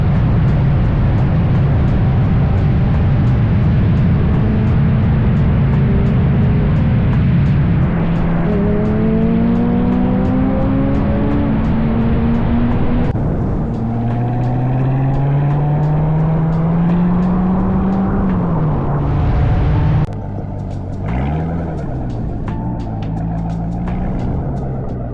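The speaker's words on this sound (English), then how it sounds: "Hopefully I got some good clips of, all 3 cars on the freeway cruising together." Three cars, including a Corvette C7 and a Porsche GT4, cruise together on a freeway with a loud, continuous engine drone and rising and falling gear-change whines, the pitch shifting up and down across the run with no talk.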